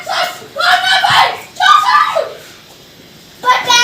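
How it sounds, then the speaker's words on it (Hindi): Children scream and shout in loud, high-pitched bursts at home in a village during the morning rush before school, with short pauses between the outbursts. "चीख क्यों रहे हो?"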